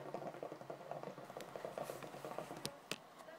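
Eggnog warming in a vase-style vessel bubbles gently, a soft, continuous patter of small bursts with a few sharper pops, quiet and close, with no talking.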